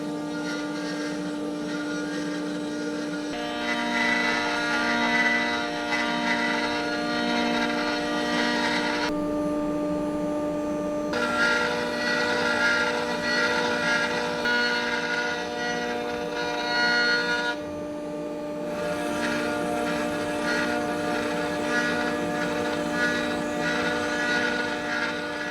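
A CNC machine drills holes in ballast keel timbers for a sailboat, giving a steady, loud mechanical whine with sustained tonal hum that drops briefly twice as the cutter pauses between holes, with no talking.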